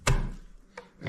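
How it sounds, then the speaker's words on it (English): Garlic cloves being smashed on a cutting board: one heavy close thump followed by two lighter knocks, no talking. "And we got some garlic here too. We're just going to smash these up and"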